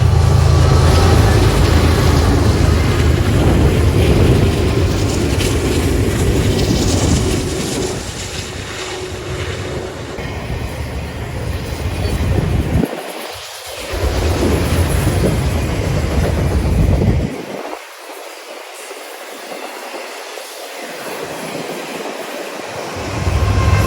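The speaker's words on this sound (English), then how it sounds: "our BNSF mixed freight arrives" A long BNSF mixed freight train rolls past at Tehachapi, a loud, steady rumble of wheels and cars filling the air, easing slightly and broken by brief dips near the end.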